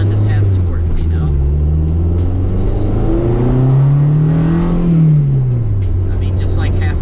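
A Honda CRX Si with a K24A2 engine swap accelerates through the gears, its engine note climbing steadily, dropping at a shift and climbing again, loud and close from inside the car.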